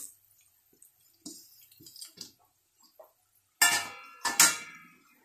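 Spoon clinks and scrapes against a cooking pot while biryani spices are stirred, scattered light taps followed by two louder metallic scraping clatters, close by and without talk.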